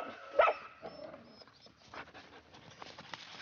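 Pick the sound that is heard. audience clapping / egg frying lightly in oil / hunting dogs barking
hunting dogs barking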